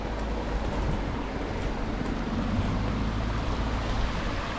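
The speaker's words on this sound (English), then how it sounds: "You can hear water. Check that out. Okay, there's a bit of a stream down here." A small stream flows nearby, making a steady, even rushing wash with no pauses and no voices.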